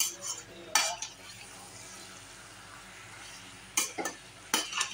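Duck meat frying with potato and ash gourd sizzles quietly in a pan while a utensil scrapes and clanks against it in a few sharp strokes.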